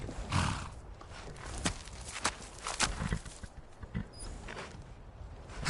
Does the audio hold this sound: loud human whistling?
no